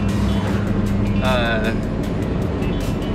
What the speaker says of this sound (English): It sounds nasty, but surprisingly it drives along the road just fine.